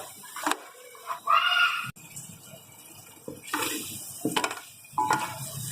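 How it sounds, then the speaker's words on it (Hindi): Water splashes into a pan of keema masala in short bursts of pouring and sizzling, separated by quiet gaps, with a voice briefly heard in between. "ज़रा सा पानी डालेंगे ताकि मसाले हमारे नीचे लगे नहीं"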